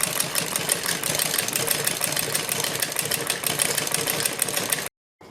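A sewing machine runs steadily while stitching a straight seam on a salwar with piping, its rapid even clatter continuing close and unbroken for several seconds before stopping abruptly.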